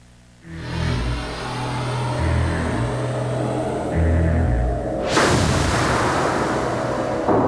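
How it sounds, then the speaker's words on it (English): A Jeep Comanche pickup with an optional 4-liter engine revs hard over a musical backing, its roar swelling into a loud, broad burst for the last couple of seconds. "With an optional 4-liter monster under its hood, Jeep Comanche doesn't just stand apart"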